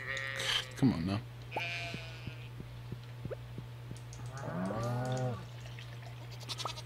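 Two bleats from a goat in the farming game Stardew Valley, one short and sharp near the start and a longer wavering one later, over a steady game hum with scattered soft clicks.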